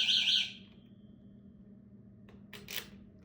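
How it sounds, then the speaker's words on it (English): Anti-theft alarm on a Solar FF 2.0 Black Edition gives a short shrill electronic chirp at the start, then after a quiet gap a couple of brief sharp bursts close by. "I guess that's like the alarm."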